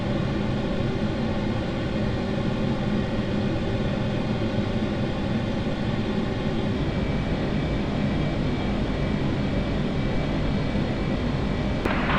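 A flight of three F-18 jets inbound and descending toward Bagram produces a steady, loud, broadband engine roar that holds constant throughout, with no voices.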